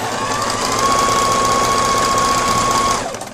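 Domestic sewing machine stitching in reverse with the thread tension set to zero, a steady loud mechanical whir and rapid needle chatter running continuously for a few seconds, close up and alone.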